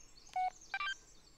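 Phone keypad tones from an in-game mobile phone in the horror video game Blair Witch, two short bursts of electronic beeps close together, clear and alone with no talking.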